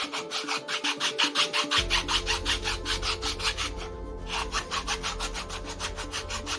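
Rough spot on an FX Impact .22 pellet magazine being rubbed smooth by hand, a rapid, steady back-and-forth scraping that runs close and continuous, joined partway by a low hum beneath it.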